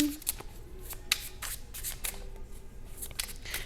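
Tarot cards are shuffled by hand in quick, soft riffling bursts and flicks, close and fairly quiet, with no voice.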